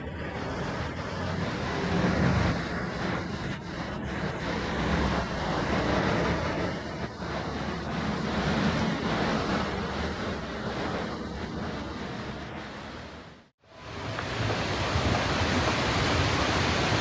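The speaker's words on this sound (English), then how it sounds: "A devastating flash flood is ravaging this area, turning once busy streets into a chaotic sea of water." Raging flash flood water carrying mud and debris roars as a loud, continuous rushing wash, broken by a brief cut before resuming.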